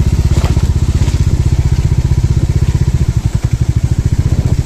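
A Bajaj Dominar motorcycle rides off-road on a rough forest track, its engine a loud, rapid thumping pulse with clattering, crunching bumps from the uneven ground mixed in.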